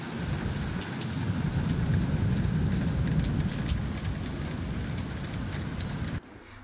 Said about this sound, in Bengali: আসলে বাইরে এত বৃষ্টি হচ্ছে